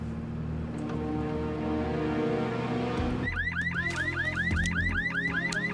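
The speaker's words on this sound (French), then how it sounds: "Vous appelez quelqu'un, vous, quand vous entendez gueuler une alarme?" A car alarm blares steadily, then switches to a rapid repeating warble of rising whoops, loud and close, with no voices over it.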